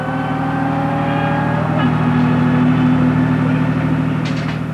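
Suzuki GSX-R1100 motorcycle blasting off on a drag run, a loud steady engine roar with rising pitch as it accelerates, continuous and close throughout.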